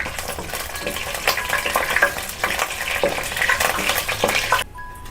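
Whole spices such as cardamom, cinnamon, cloves, mace and star anise frying in hot oil for vegetable pulao, a bright crackling sizzle with stirring scrapes and light metallic clinks that cuts off near the end.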